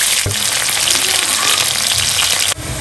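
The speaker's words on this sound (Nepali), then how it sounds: "गुरुङ सरले मेथी फुराउँदै हुनुहुन्छ है तोरीको तेल" Fenugreek seeds fry in local mustard oil in a black iron wok, a loud, dense, continuous sizzle heard up close, with a brief dip and shift near the end.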